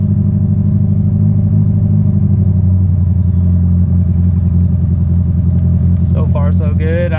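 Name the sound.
Honda Prelude engine driving forward in first gear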